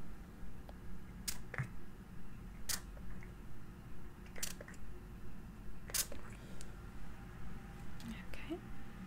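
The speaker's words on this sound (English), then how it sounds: "we're going to gently spray that onto the face now" A spray bottle mists onto a face during a close-up ASMR massage roleplay: four or five short, breathy hissing sprays spaced a second or two apart, close to the ear, with soft whispered talk underneath.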